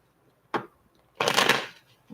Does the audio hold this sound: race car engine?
no